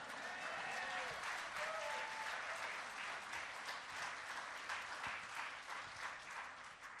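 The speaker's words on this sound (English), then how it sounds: "you can applaud me." Audience applause at a live storytelling event, sustained clapping from a crowd that stays dense and even for the full seven seconds, heard from a little distance.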